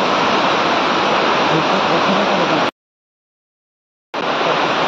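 Heavy rain pours at a railway station as a dense, loud, continuous roar, cut off abruptly by about a second and a half of total silence before resuming just as strongly.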